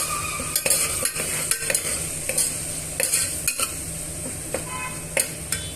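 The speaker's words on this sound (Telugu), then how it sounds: "ఇప్పుడు ఇందులోనే అల్లం వెల్లుల్లి పేస్ట్ని యాడ్ చేశానండి ఒక రెండు నుంచి మూడు టేబుల్ స్పూన్లు అల్లం వెల్లుల్లి పేస్ట్ని యాడ్ చేసుకోండి ఇప్పుడు ఇవన్నీ కూడా బాగా వేయించుకోవాలి" Ginger garlic paste fries in a pan for Hyderabadi bagara rice, a steady close sizzle broken by sharp, regular spatula scrapes and taps against the pan, with no talking.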